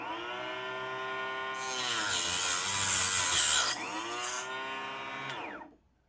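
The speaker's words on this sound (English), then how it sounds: "I'm using this mini chop saw, which works well for this purpose." A mini chop saw spins up with a whine, then cuts through a metal cartridge case with a harsh, louder grinding pass before winding down to silence, close and alone.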